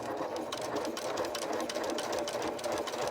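A sewing machine runs continuously while stitching a bottom hem, giving off a quick, even mechanical chatter that is close but fairly quiet and holds steady throughout.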